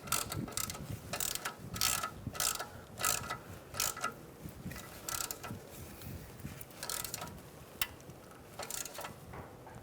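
A ratchet wrench tightens the strut bracket bolt on a 2014-2019 Kia Soul front strut and spring assembly, giving quick repeated bursts of clicking in a regular back-and-forth rhythm, close up.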